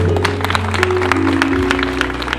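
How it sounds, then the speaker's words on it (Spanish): Graduates at a graduation ceremony in Huayllay receive brisk crowd applause with rapid, close clapping, over a steady background hum and tones from the hall's sound system. "Le brindamos un fuerte voto de aplausos a nuestros graduados."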